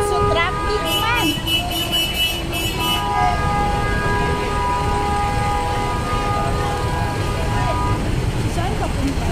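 Heavy city street traffic in Metro Manila drones on with a dense engine rumble, while several horns toot in overlapping tones near the start and a voice speaks over the din.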